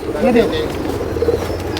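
A pigeon coos softly nearby in a couple of low, throaty notes, with people talking over it.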